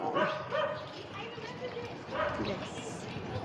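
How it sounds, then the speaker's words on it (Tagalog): Dogs barking in a few short yapping bursts, fairly close, with a person's voice mixed in. "Yung mga aso dito."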